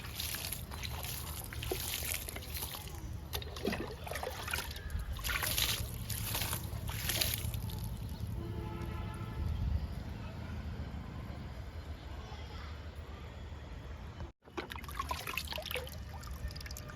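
A steady stream of water pours and trickles for a long stretch, close and fairly loud, with a short break before the flow picks up again.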